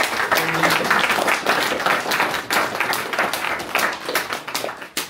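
Audience in a hall applauding during an opening speech at a youth political colloquium, a steady dense clapping from a crowd that tapers slightly toward the end.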